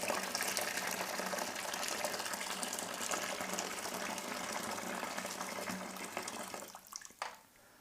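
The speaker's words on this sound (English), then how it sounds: "I'm going to add one more kettle full of boiling water" Boiling water from a kettle is poured into a home beer-brewing bucket, a steady close gushing splash lasting several seconds before tapering off with a few final drips and a knock.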